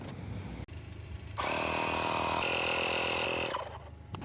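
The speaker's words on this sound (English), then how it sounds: "Now let's put air with the compressor." A portable air compressor inflates a repaired car tire after a tire repair kit plug, giving a steady loud whining hum with tonal bands for about two seconds before cutting off, with background noise before and after.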